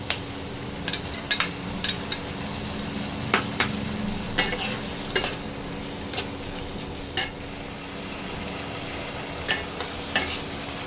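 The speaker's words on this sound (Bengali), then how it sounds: "আদা রসুনটা একটু ভাজা ভাজা হোক" Ginger, garlic and green chili paste frying with browned onions for mutton curry gives a steady sizzle, punctuated by repeated sharp spatula scrapes and taps against the pan at an irregular rhythm, close and clear.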